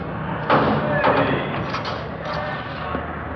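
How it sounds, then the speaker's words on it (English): A heavy jail door is shut and locked in a 1951 Dragnet crime drama, heard as a thudding slam followed by muffled clunks beneath people talking. "They want to lock that door."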